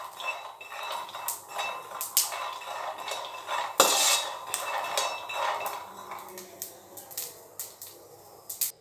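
Peanuts dry-roast in a pan without oil, rattling and clinking as they are stirred. The sharp ticks and scrapes come in irregular bursts, close and fairly quiet, with one louder clank partway through.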